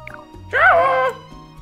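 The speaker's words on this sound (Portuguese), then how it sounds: "Ah, cachorro." A dog in the Super Mario Odyssey video game gives a single short, whiny bark-yip over a low steady game background hum.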